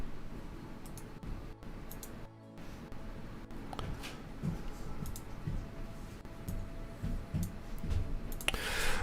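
Keyboard typing during a livestream of the online game Dungeons & Dragons Online, light scattered clicks and key taps at irregular intervals, fairly faint beneath steady background game sound.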